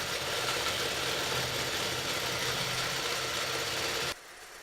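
A Tin Lizzie 18 quilting machine stitches a row across a quilt top with a steady, dense motor hum that holds evenly for about four seconds, then cuts off.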